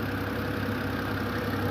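A steady BMW 328i sport wagon engine idles with a low, even rumble, constant throughout and close by.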